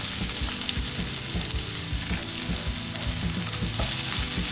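Chopped onions sauté in a pan with a dense, constant sizzle and intermittent stirring scrapes up close, and faint tonal sounds linger underneath.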